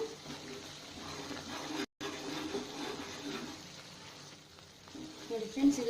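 Coconut burfi mixture with ghee being stirred in a pan over medium heat, giving a steady soft sizzle and scraping throughout at moderate level, with a brief silent break.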